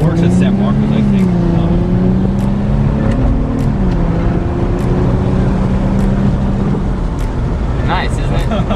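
An Infiniti G35 accelerates on the road, a steady engine drone from inside the car rising and wavering in pitch, with people talking over it.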